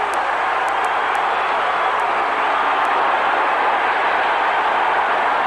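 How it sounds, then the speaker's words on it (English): Baseball crowd at Comiskey Park roaring during a Tigers–White Sox brawl, a steady distant wash of cheering with a few faint sharp claps, heard alone without talk. "The fans are cheering."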